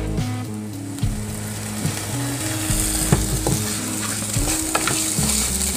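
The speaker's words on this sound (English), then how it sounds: "I'm gonna let this toast for a second." Rinsed long grain white rice toasts in hot oil, a dense close sizzle with frequent scraping strokes of a spoon stirring the grains, continuous and loud.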